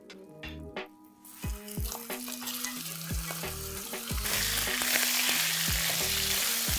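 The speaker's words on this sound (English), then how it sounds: "Let's add in the pieces of mutton." Mutton pieces hit hot ghee and oil in a wok and sizzle steadily, the frying growing louder and denser, with clinks of a utensil stirring in the background.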